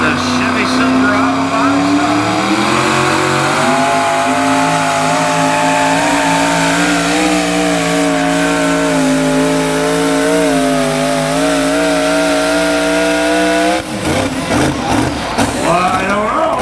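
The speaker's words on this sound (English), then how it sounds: "Little different sound coming here with the turbos instead of the supercharger." A modified two-wheel-drive Chevy Silverado pulling truck with turbos roars at a county fair truck pull, a loud sustained engine wail rising in pitch, then rough and choppy near the end, with an announcer talking over it.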